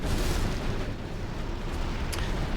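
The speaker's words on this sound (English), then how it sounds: "That's actually Muff's artillery coming now." Artillery shells landing and exploding in the real-time strategy game Arctic Lagoon map match, heard as a dull, rumbling low-frequency barrage under steady noise, with a brief sharp burst near the end.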